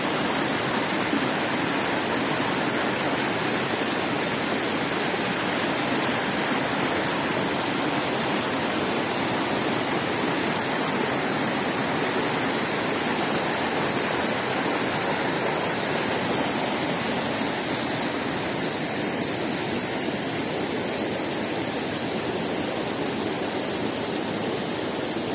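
Steady rushing wash of a mountain river in Kyrgyzstan flowing over rust-coloured, iron-stained stones in its bed, a constant close broadband roar with no pauses and no talking.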